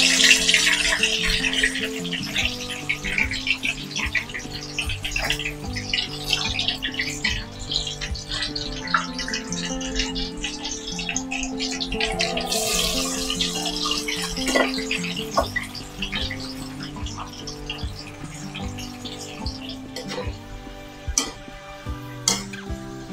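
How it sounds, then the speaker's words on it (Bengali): Potato and green banana chips fry in hot oil, giving a busy bubbling, watery crackle with clinks and stirring sounds, close and continuous throughout without talk. "চিপস এখন ফ্রাইয়ের জন্য দিয়ে দিচ্ছি।"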